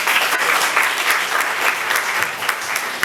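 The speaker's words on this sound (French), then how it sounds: "Applaudissez vos camarades." Steady crowd clapping rewards pupils at a World Book Day ceremony in Diourbel, dense and loud throughout, close and sustained without pause.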